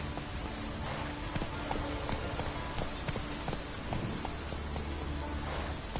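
Horse hooves clip-clop steadily through falling rain in a medieval fantasy video game, the rain hissing continuously beneath the hoofbeats, with no talk.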